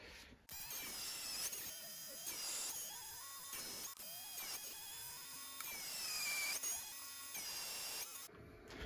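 A power drill boring mounting holes through a small metal plate for a mini lathe carriage lock, several loud whining bursts of drilling separated by brief pauses, close up with no talking.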